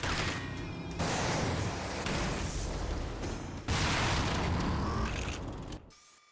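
Vehicles blown up in the game Rage, heavy booming explosions with crunching, rattling debris in a few loud bursts, the last one cutting off sharply near the end.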